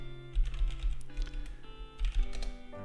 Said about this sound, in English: you can type exclamation mark, which is the prefix of the bot